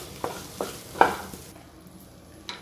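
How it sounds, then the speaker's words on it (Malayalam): A spoon scrapes and stirs tomatoes and salt through an oily pan for spicy paneer roast, a few distinct scrapes over a soft sizzle, close and with no talking. "തക്കാളി കൂടി ചേർത്ത് നന്നായിട്ട് ഒന്ന് ഇളക്കിയിട്ട്"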